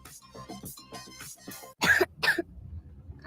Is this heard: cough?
yes